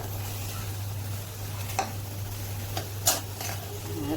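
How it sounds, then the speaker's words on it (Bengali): Okra being stirred in a pan makes a soft background sizzle, broken by a few sharp scrapes and clicks of a utensil against the pan, with no talking. "ঢেঁড়স দিয়ে দিলাম, আমি এটা মিশিয়ে দিচ্ছি।"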